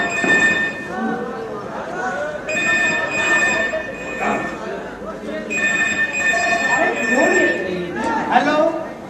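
Indoors at a bungalow, a telephone rings in repeated bursts, loud and nearby, while people talk over and between the rings.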